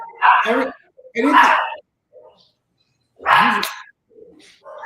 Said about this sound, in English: I think my dog hears your dog.